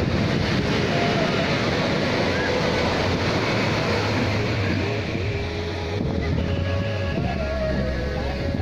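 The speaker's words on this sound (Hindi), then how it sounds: "ये देखिए किस तरह से लहरें आ रही हैं।" Sea waves wash in at Puri beach in a continuous broadband roar, mixed with wind buffeting the microphone and a faint murmur of people nearby, steady throughout.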